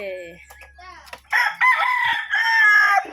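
Chickens crowing and clucking close by in a small backyard in Sorsogon, Philippines, a rooster call rising over scattered farmyard clucks, with a brief voice near the start.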